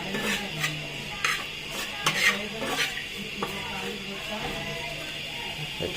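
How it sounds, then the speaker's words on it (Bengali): Shrimp fry in mustard oil in a pan while being stirred, with close clinks and scrapes of a utensil against the metal over a steady low hiss. "তারপরে চিংড়ি মাছটা সুন্দর করে ভেজে নেব।"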